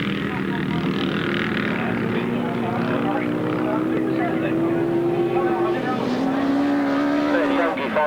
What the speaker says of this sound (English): And Woggy fires up into life then. Big 750cc 4-cylinder Suzuki outfit with Barry Gear and David Hollins